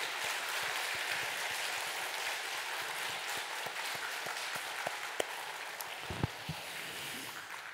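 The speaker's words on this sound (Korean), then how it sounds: "힘차게 박수." A church congregation applauds at a rainy Sunday service, a dense, steady hiss of many hands clapping at a distance, with a few sharper claps standing out near the end.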